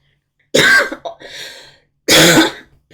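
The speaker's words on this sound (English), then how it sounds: "coughing and spluttering" A person nearby coughs and clears their throat twice, harsh and raspy, with a short rough breath between the bursts.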